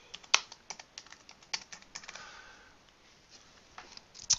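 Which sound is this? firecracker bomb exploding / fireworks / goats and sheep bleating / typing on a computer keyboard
typing on a computer keyboard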